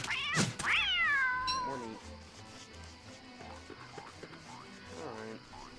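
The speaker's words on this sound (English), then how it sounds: "There's a cat right there." A catcoon in the game Don't Starve gives a loud, drawn-out meow early on, followed by quieter, shorter meows while a person briefly speaks.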